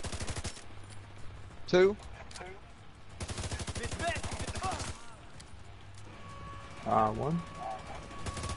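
Video game gunfire during a co-op raid, with bursts of automatic shots and single cracks under several players' overlapping voice chat, two louder shots standing out near the start and end.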